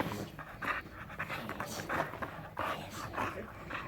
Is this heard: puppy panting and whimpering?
yes